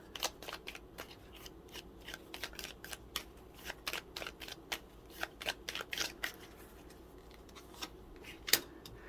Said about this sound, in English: Shuffle these up here.